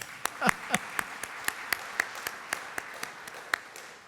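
Scattered clapping from a small audience at a village State of the Village address, a couple of dozen separate claps spread unevenly across a few seconds in a quiet hall, fairly faint.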